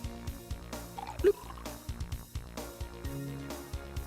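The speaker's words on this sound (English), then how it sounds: "That noise is the noise of our bladders filling up with all this water" Office Point Rescue video game effect of water filling: a series of bubbly, liquid bloops and drips that come in short rhythmic bursts with one louder gurgle, fairly quiet and close.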